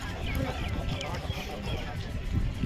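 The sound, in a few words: horses' hooves clip-clopping at a horse-riding spot in Pahalgam, Kashmir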